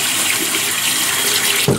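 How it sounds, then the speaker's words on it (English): Warm water pours steadily from a bathroom tap onto a shaving brush, a continuous close splashing rush that keeps going alone with no talking. "add some warm water on it,"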